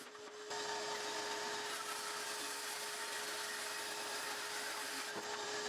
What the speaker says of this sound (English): I used the table saw to cut all the pieces down to width.